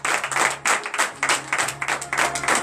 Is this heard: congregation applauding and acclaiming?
yes